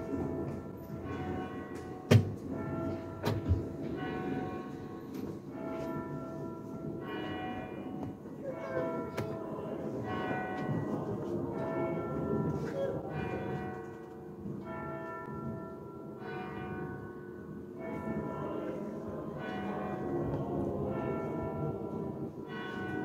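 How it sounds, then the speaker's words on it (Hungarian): Church bells toll steadily in rhythmic repeating strikes, heard from some distance through a doorway, moderately faint against room noise, with a couple of sharp knocks early on. "Meg ma már hallottam a harangozást, de nem volt olyan hüde hangos, úgyhogy elpróbáltam felvenni"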